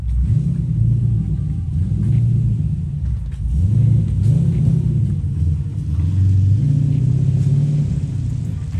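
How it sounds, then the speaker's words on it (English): A car engine rumbles loudly with deep, throaty exhaust, swelling and revving in waves as the vehicle passes close by. "He must have put exhaust on it because that thing was way louder."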